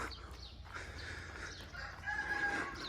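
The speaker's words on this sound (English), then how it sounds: "You can hear the chickens yak." Chickens cluck and a rooster crows on a farm in Isaan, steady poultry calls at moderate distance with a clearer crow rising near the end.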